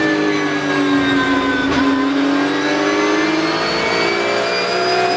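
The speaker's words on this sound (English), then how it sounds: "Benjamin losing slightly the control of his Porsche, exiting the chicane." A Porsche Carrera Cup race car engine at Assen, heard onboard, holds a loud, steady high-revving drone with sweeping rising pitch as it accelerates out of a chicane, continuous throughout with no other sounds.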